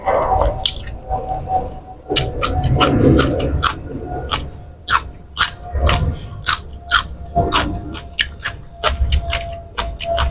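Close, wet chewing and crunching of spicy Thai chicken feet salad with rice noodles, rapid rhythmic bites and squishes in a steady run.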